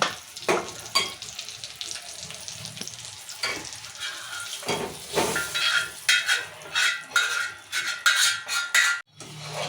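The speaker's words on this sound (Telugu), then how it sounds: "వంకాయ మొత్తం చుట్టూ కాగుతుంది మంచిగా మసాలా కూడా మంచిగా" Stuffed brinjals frying in masala in a pan for gutti vankaya biryani, a steady close sizzle broken by scraping stirs and clinks of a utensil against the pan, with no talk.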